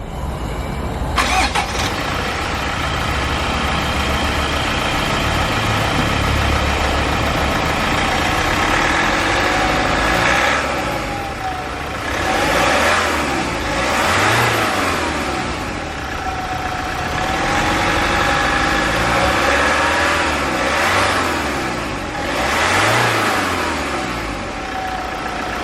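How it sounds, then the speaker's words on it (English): A 2019 Range Rover Sport SD4 diesel cranks and catches, then settles into a quiet, steady idle with a few mild swells in engine tone, heard alone and close throughout. "Very quiet sounding diesel."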